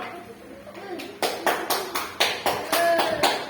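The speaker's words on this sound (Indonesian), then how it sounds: "Tepuk tangan untuk kelompok 1." A classroom of students claps for a student group, starting with faint murmur and then giving about nine loud, evenly spaced claps in unison, close and rhythmic.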